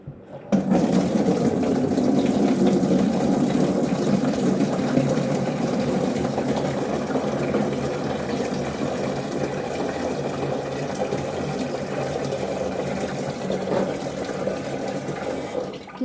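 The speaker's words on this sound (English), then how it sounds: "Now, when you're filling this up or when you're filling up the humidifier, you can use tap water or you can use filtered water." Cold tap water pours steadily into a Vicks Vaporizer reservoir, a continuous close rushing and splashing stream that runs evenly for about fifteen seconds with no talk.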